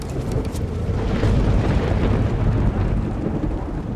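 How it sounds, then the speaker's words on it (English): Thunder and heavy rain in a sudden dark storm: a loud, continuous low rumble with a steady hiss of rain, swelling in the middle and sustained throughout. "the weather suddenly turned dark and it started to rain heavily"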